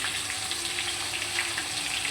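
Potatoes seasoned with salt, turmeric and chili powder fry in a pan with a steady, even sizzle that holds at moderate volume without pause, and no talk is heard.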